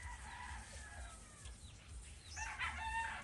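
Chickens kept overnight in a tricycle cluck and crow faintly at a distance, low and indistinct beneath a steady background rumble, with a brief louder burst near the end.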